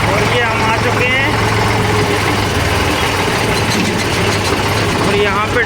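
A tractor engine idles steadily at a petrol pump, a low continuous rumble with a droning hum running throughout, while voices and surrounding forecourt activity mix in over it.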